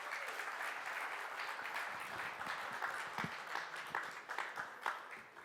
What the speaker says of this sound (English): How about a round of applause for all of our participants tonight?